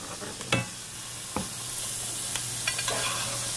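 Steak sizzling in a cast iron skillet as melted butter is spooned over the top, a steady frying hiss broken by a few sharp spattering pops, close and alone without talk.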